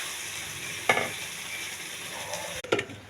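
Potato pieces sizzle in a pan with ginger-garlic paste, turmeric and red chilli powder. A constant close hiss is broken by a couple of sharp spatula knocks against the pan.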